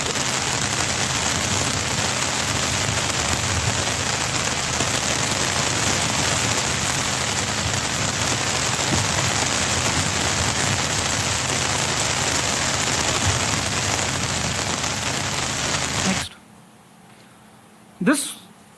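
Heavy tropical rain pours steadily onto the ancient-style sailing ship INS Kaundinya, a loud, dense, unbroken wash of droplets that cuts off near the end, leaving quiet and one short knock.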